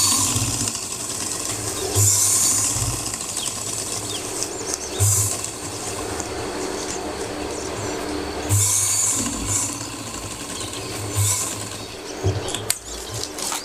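Sewing machine stitching a straight practice seam, a soft steady mechanical whir with faint rhythmic clatter, running in short stretches that briefly quicken and pause, close and fairly quiet, with no talk over it.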